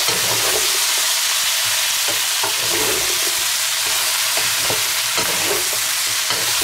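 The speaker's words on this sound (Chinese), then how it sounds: "配菜也加进来，再次给它翻炒均匀" Vegetables for a spicy stir-fry pot hiss steadily in a hot wok, with occasional scraping tosses of the spatula over the continuous close sizzle and no speech.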